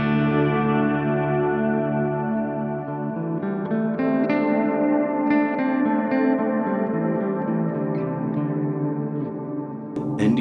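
A sustained guitar chord washes in heavy shimmering reverb from a Strymon BlueSky V2 pedal, with a deep octave-down layer swelling beneath it; no voices.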